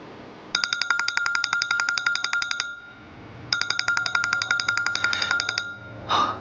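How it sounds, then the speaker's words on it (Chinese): A telephone rings with a call from work, two long bursts of rapid electronic trilling separated by a pause, fairly loud and close in a quiet room, with no one speaking over it. "公司的电话，我出去接一下。"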